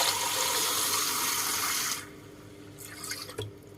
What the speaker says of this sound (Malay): kita akan masukkan air masukkan air